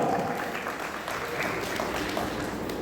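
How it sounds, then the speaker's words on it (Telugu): Audience applause at a golden jubilee alumni reunion gathering for the 1973–2023 batch, a steady, fairly distant wash of clapping that holds evenly throughout with no break. "మనం అందరం ఒక్కసారి చప్పట్లతో వారిని అభినందిద్దాం"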